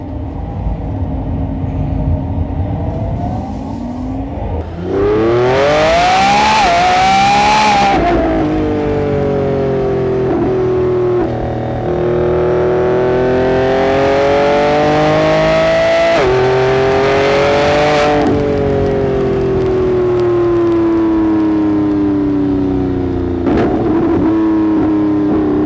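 A Lamborghini Revuelto roars through a launch-control run, the engine climbing hard through several rising pulls with brief drops between, loud and close for about twenty seconds after a quieter idle.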